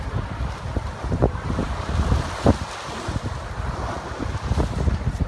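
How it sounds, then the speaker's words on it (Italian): Strong wind of about 12-14 knots at sea aboard a sailing boat, steady roaring gusts buffeting the microphone over the rush of waves against the hull, continuous and close. "12-14 nodi di vento parecchio."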